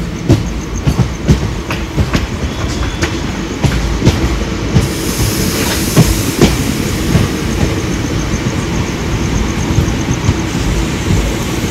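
Sainagar Shirdi to Dadar express train at Belapur railway station, a loud close rumble of rolling wagons with rhythmic clickety-clack wheel beats and metallic rattles throughout.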